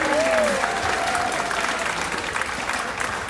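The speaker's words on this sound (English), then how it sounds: "Let's give them a big round of applause." An audience aboard the Caribbean Princess cruise ship gives the crew a hearty round of applause, dense clapping mixed with cheers and a whistle, staying full and lively throughout.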